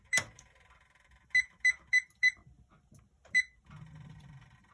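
Kitchen timer set while cooking mac and cheese, giving one chirp and then a quick series of four sharp electronic beeps, one more beep after a pause, and a faint low hum at the end.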